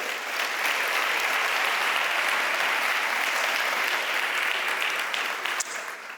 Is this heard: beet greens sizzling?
no